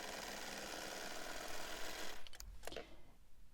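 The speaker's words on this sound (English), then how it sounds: "And so you can just sew around it like this." A serger stitching around the edge of knit fabric runs with a close, fast, steady mechanical whir that stops abruptly, followed by a couple of small clicks and handling noises.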